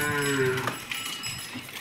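A Khilari cow lets out a loud, close moo lasting under a second at the start, then the farm goes quiet apart from faint background noise.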